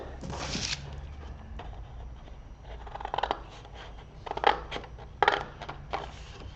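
Scissors cutting out a traced paper doll pattern, with soft crunching snips of paper and a few sharper clicks and rustles spaced irregularly, close and fairly quiet.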